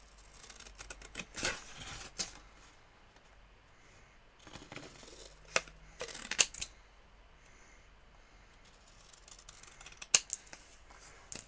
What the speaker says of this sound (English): this piece I'm just going to be lazy and do it by my scissors